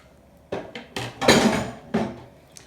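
Spatula folds Greek yogurt into a keto strawberry mousse mixture in a bowl, giving a few soft scraping and clacking strokes against the bowl, close and moderately loud, with no talk.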